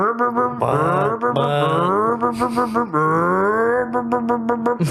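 A voice imitates a revving BMW E36 engine, droning and warbling in pitch for several seconds, close and loud with no spoken words.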